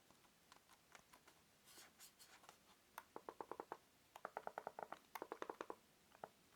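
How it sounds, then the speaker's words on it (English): Buttons on a Logitech K400 Plus wireless keyboard pressed in quick succession, giving soft, close plastic clicks, sparse at first and then in rapid bursts, with no talking. "And just pressing on the multimedia buttons"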